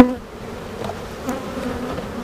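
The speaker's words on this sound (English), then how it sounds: "So we do have some bees hanging out at the entrance." Honeybees buzz steadily at the entrance of a beehive, a dense, continuous drone of many insects close by, with no talking.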